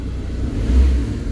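A Ford Ranger 3.2 engine, just decarbonized, gives a short low rev that swells and then eases back, heard close with no talk over it.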